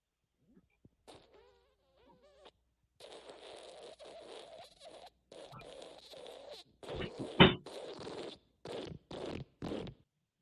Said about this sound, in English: Wet fart.